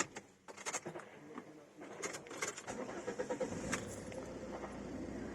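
A 2008 Ford Mondeo liftback being started, with a rising engine note settling into a steady idle close by, plus faint bird chirps in the background.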